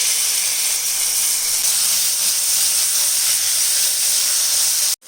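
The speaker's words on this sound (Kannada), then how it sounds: "ನೋಡಿ ಮಸಾಲವನ್ನು ಒಂದ್ಸಲ ಫ್ರೈ ಮಾಡಿಕೊಂಡು ಲೈಟಾಗಿ ಮ್ಯಾರಿನೇಟ್ ಮಾಡಿರುವಂತಹ ಮೀನನ್ನು ಹಾಕೊಳ್ಳೋಣ." Masala and marinated anjal (seer) fish frying in hot coconut oil in a tawa pan, giving a steady, loud, close hiss of sizzling that runs unbroken and cuts off abruptly near the end.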